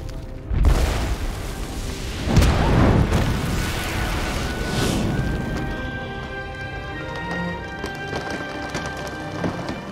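Explosives blowing up in a garden setting, a heavy boom followed by a second blast a moment later, then rumbling debris and crackle slowly fading into a ringing tail.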